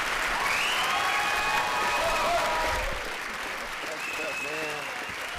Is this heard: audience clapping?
yes